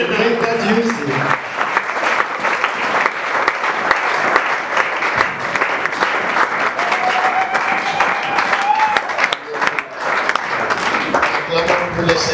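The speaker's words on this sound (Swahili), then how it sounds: "Taweka makofi yako." A church congregation applauding during a prayer service, sustained dense clapping filling the room, with a voice speaking over it at times.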